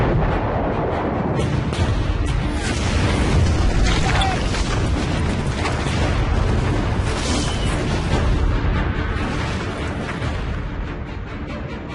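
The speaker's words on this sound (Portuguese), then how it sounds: "os primeiros tiros de um maciço ataque violento caem em Okinawa" Massive artillery bombardment and explosions in a 1945 battle on Okinawa, a dense, continuous rumble of booms and bursts layered over one another, loud and sustained across the whole stretch.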